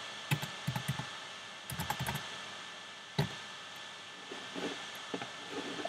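Keys clatter on a Mac computer keyboard in short bursts of crisp, close clicks with brief pauses between them, then a few softer scattered taps, and no talking.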